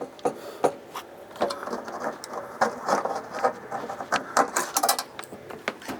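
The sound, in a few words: pry scraper peeling motor seal on Air Shammee dryer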